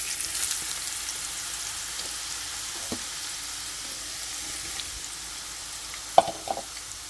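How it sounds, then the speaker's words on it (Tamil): Carrots fry in hot oil with a constant bright sizzle while Sri Lankan noodles are prepared, and a few stirring clinks come near the end. "இனி இந்த கேரட்டை போட்டு பொரிக்க போகிறேன்"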